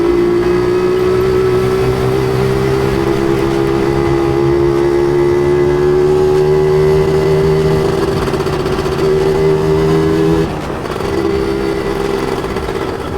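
Standard exhaust pipe on a Yamaha 125ZR two-stroke motorcycle, idling steadily up close with a constant buzzing drone and slight pitch drift, briefly dipping near the end before settling again.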